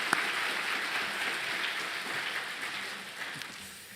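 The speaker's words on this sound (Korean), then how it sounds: "박수로 응원하도록 하겠습니다" A church congregation at a Sunday worship service claps in encouragement, a soft, even patter of many hands heard from a distance, faint and fading slightly toward the end.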